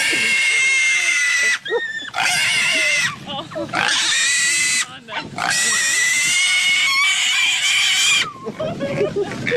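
Pigs squeal loudly and shrilly in long, piercing bursts with short gaps between them, heard close by.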